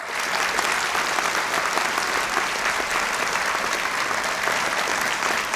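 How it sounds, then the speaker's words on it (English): Audience at a design college graduation ceremony giving a long, full round of applause, dense continuous clapping from a large crowd holding steady throughout with no speech on top. "can we have a very, very large round of applause for the people who can't be here today"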